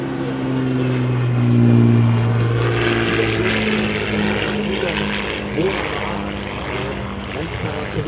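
A vintage Czech Aero 45 twin-engine propeller plane on approach to a grass runway, its droning engines loud and steady with shifting pitch, while someone talks over it.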